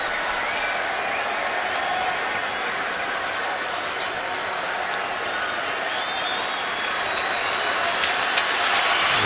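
Stadium crowd at a 2012 Steelers at Raiders NFL game reacting to a Raiders player, a loud, sustained roar of many voices with a slight swell toward the end.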